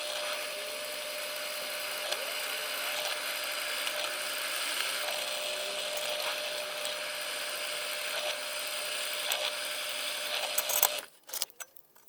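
A steady high-pitched whine of a 4mm drill bit boring about 20mm into a drill vice, continuous for several seconds, then stopping abruptly with a few clicks.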